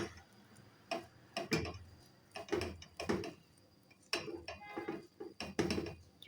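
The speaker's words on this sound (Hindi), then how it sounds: "अब जो है ना, इसको मैं हल्का-हल्का मिक्स करती जाऊँगी।" Melting chocolate chunks stirred gently in a bowl, giving a series of soft, close clinks and scrapes of a utensil against the bowl at an irregular pace, fairly quiet.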